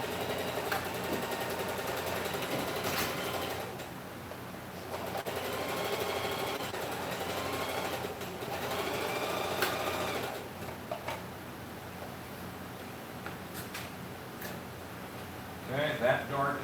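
Sewing machine stitching a dart, running in steady buzzing bursts with short pauses between, close and fairly quiet, with a few small clicks near the end.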